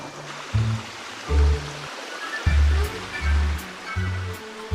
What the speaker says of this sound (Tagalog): nakaka-relax yung tunog ng agos ng tubig